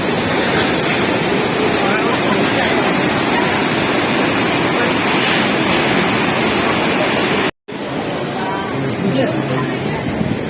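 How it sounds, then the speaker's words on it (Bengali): Hot spring water gushing out in Manali, a loud continuous rushing roar of water heard up close, broken by one brief cut to silence before the roar resumes. "এই যে গরম জলটা বেরিয়ে আসছে, দেখ"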